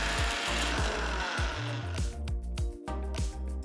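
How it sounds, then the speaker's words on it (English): A mixer grinder whirs loudly and steadily in a jar, crushing cooled masala spices into fine powder, with rhythmic pulsing churns and rattles throughout and no talking. "transfer to a mixer jar and grind it to a nice fine powder."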